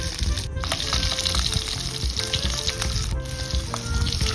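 Stuffed green chillies fry in a wide, shallow pan with a loud, continuous close-up sizzle and crackle, plus a few faint stirring sounds.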